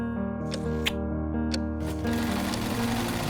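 A sewing machine runs continuously up close, producing a steady rapid mechanical hum and chatter, with a few sharp clicks in the first two seconds.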